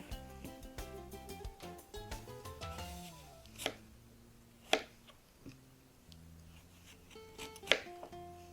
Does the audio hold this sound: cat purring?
no